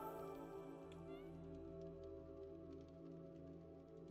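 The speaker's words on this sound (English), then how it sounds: "And I have a cat. Of course." A cat meows in a video game, a faint, quiet call over a steady, humming game soundtrack with soft rain-like patter.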